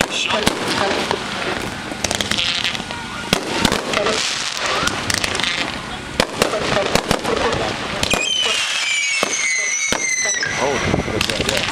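A consumer firework item called Take Shelter goes off during a fireworks demonstration, with rapid loud cracks and bangs, crackling bursts and rising whistles toward the end, and voices faintly in the background.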